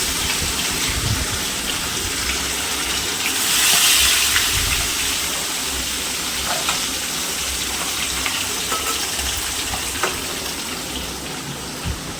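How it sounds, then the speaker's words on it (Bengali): Katla fish (carp) pieces fry in hot oil with a steady, dense sizzle and crackle that carries on unbroken throughout, loud and close, with no one talking. "এবার মাছটা ভেজে নেবো।"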